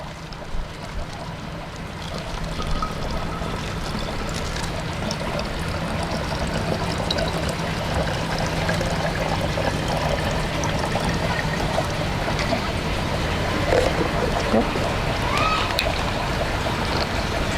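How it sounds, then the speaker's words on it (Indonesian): Water is poured into a fermentation container with molasses, making a continuous splashing, gurgling rush that stays steady and fairly loud throughout, with a voice faintly present at times. "Kemudian kita tambahkan air, tidak sampai penuh, 2/3-nya sudah cukup."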